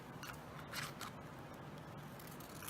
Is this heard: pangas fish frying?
no